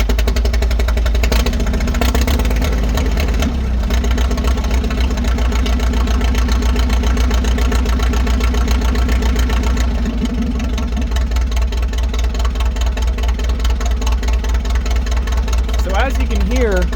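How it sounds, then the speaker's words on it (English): A 1940 Farmall H tractor engine, misfiring and running on three cylinders, runs loudly and unevenly, chugging with a rough, irregular beat throughout, then revs briefly near the end. "the tractor is misfiring. I think it's only running on 3 cylinders"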